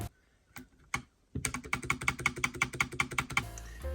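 Fast, crisp clicking of typing on a mechanical keyboard with blue switches fitted with a tape mod; a few scattered keystrokes first, then a rapid, even run of sharp, close clacks.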